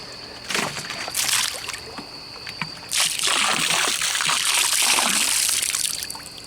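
Liquid bleach poured and spread into a green swimming pool, giving splashing, trickling water sounds in bursts, with a longer steady pour and splatter in the second half.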